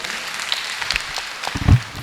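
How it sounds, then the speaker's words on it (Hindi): An audience claps at a Jain monks' religious discourse during morning aarti, a steady, moderately close patter of many hands lasting about two seconds, with one heavier thump near the end. "तालियां बजा दो।"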